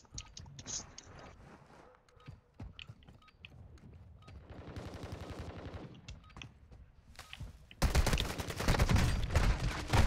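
Automatic gunfire rattles in rapid bursts in Call of Duty Warzone, with scattered shots early on. A long sustained volley swells midway, and a loud, close, dense barrage closes the clip.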